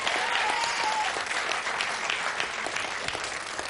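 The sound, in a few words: audience applause for a game show contestant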